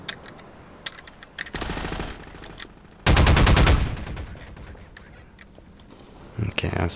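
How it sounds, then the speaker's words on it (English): Pulse rifle fire in Half-Life 2, two loud rapid automatic bursts in quick succession, the second longer and heavier, with quieter game sounds and a short clatter of shots near the end. "Maybe I'll just get the pulse rifle."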